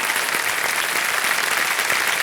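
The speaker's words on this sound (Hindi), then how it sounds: "तालियां बज जाएं इनके लिए।" Studio audience on a Kaun Banega Crorepati quiz show claps steadily in a dense, even burst of applause that fills the short stretch without letup.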